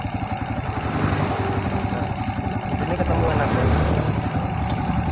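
A motorcycle engine idles steadily after its carburetor air screw is adjusted, with a low even throb running throughout while someone talks over it.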